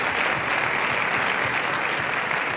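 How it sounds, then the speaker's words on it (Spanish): Public applause at a municipal music event in La Vila Joiosa, a sustained even wash of many hands clapping at once, fairly distant and steady throughout. "Porta aplaudiment."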